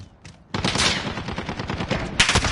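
Rapid automatic gunfire rattles in a Hardpoint match of Call of Duty: Modern Warfare, a dense, loud, continuous burst of shots after a brief quiet start, with no voices.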